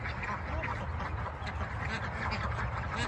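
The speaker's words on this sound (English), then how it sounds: "Yeah, you see the ducks back there" Ducks kept for breeding at a tropical fruit tree nursery in Louisiana quack in a dense, continuous chorus, steady and fairly loud under outdoor noise, with voices faintly present.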